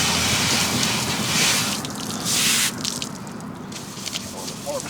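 Water sprays across the painted body of a 1967 Ford Camper Special barn-find truck, rinsing off cleaner in a continuous hissing, splattering wash with uneven surges, close and fairly loud.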